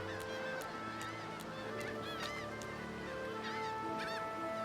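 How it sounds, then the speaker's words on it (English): Seagulls call repeatedly over a steady game ambience in Divinity: Original Sin II, a dense, fairly loud chorus of honking, squawking cries with no talking. "The seagulls are rather loud."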